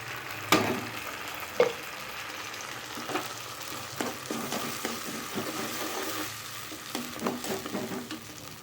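Ground tomato paste poured into a sizzling pan with curry leaves for Chettinad chicken gravy, a steady fry hiss with a few sharp utensil knocks, close and alone.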